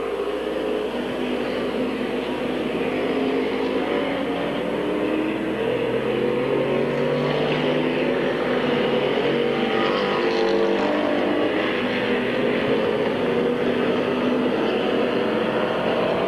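Race cars lapping at Midvale Speedway, a loud continuous engine roar with cars droning past, filling the whole stretch without a break.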